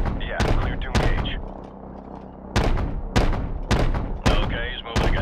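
Gunship cannon fire from above in Call of Duty: Modern Warfare Remastered, heavy booming rounds landing on targets in repeated bursts about every half second to second, loud and close, with radio chatter between shots.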